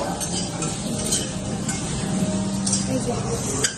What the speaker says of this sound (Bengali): এটা হচ্ছে করলা ভাজছে